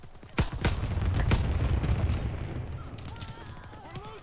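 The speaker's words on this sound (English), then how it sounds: "Sending mortar rounds, zone and sweep." Mortar rounds landing in the Call of Duty: WWII game: two sharp blasts open, followed by a rumbling low barrage that fades, with faint warbling tones near the end.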